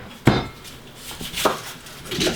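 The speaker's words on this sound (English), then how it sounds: "the first thing we're going to do is cut up some of these onions" A kitchen knife chops onions on a cutting board for chili, sharp separate knocks of the blade striking the board at an uneven pace, close and clear with no talking.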